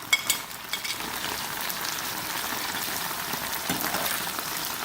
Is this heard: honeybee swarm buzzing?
no